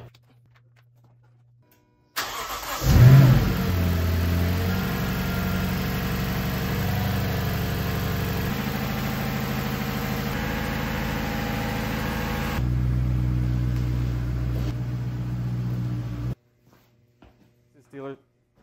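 A 2013 Lexus LS 460 AWD with 200k miles, freshly fitted with new injectors and gaskets, cranks and fires with a loud surge, then settles into a steady, even idle that runs up close before cutting off.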